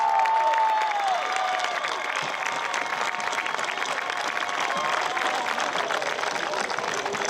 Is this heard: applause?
yes